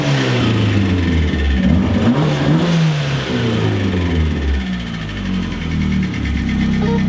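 A turbocharged Mazda Miata engine with a bad internal engine noise revs and drones loudly, its pitch rising and falling with a rough, labored mechanical tone underneath.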